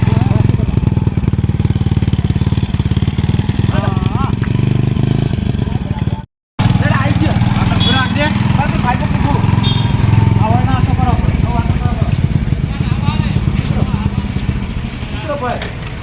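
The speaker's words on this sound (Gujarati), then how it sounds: "બાઈક તો ખૂબ અવાજ કરે ને" A motorcycle engine runs loudly and continuously, a rough buzzing drone, while people talk over it; a brief dropout interrupts partway.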